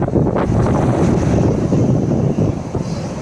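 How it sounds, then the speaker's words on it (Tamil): Big sea waves surge onto a rough shore in strong wind, a continuous loud roar of surf with heavy wind buffeting the microphone throughout. "எழும்பி வரும் பெரிய அலைகள்."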